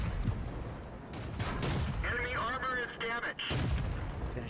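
World of Tanks battle with a Matilda tank under fire: artillery and tank gun blasts boom in quick bursts over the game's mechanical noise, with a voice speaking over the action.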